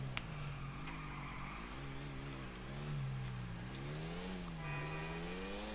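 In GTA IV, a motorcycle engine drones steadily at a low rev, its pitch rising and falling in slow waves, with a higher whine entering near the end; fairly quiet and without speech.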